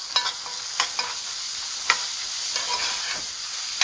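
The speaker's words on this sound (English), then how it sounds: "I'm going to get all of that into the pot. I'll give that a quick toast up." Shredded carrots toast in a pot with a soft, steady sizzle broken by a few scraping stirs, close and alone.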